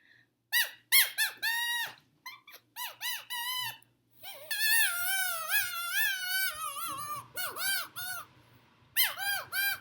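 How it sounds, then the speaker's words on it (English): A homemade harmonica built from straws pressed tightly against stretched rubber bands, blown in a series of short squeaky, reedy toots with wavering pitch, close and fairly loud, with a few brief pauses between bursts. "This is our harmonica."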